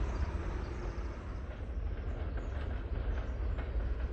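A freight train of empty wood chip gondolas rolls past close by, a steady continuous rumble of wheels and cars with faint rhythmic clicks, unbroken for the whole stretch.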